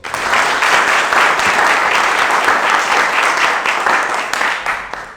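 A quiz show studio audience breaks into loud sustained applause, many hands clapping steadily for several seconds before it tapers off near the end.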